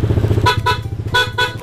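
An aftermarket PIAA horn fitted to a Honda ADV 150 scooter blasts several loud, close, bright toots in quick succession.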